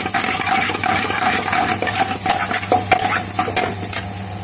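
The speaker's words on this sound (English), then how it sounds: "Chef Imran is going to mix them together and nice and goodly" Chicken biryani with pure ghee being stirred into pilau rice in a pot: continuous close scraping and clinking of a metal spoon over a steady sizzle, with sharper knocks against the pan.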